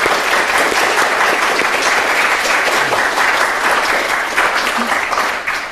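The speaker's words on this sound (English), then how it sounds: "Can we get one more big round of applause for our artists?" Audience at an art lecture applauding the artists, dense sustained clapping from a roomful of people that holds steady throughout and tapers slightly at the end.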